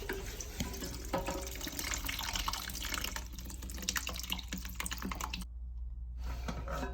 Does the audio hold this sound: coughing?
no